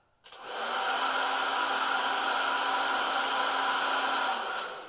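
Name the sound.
old hair dryer running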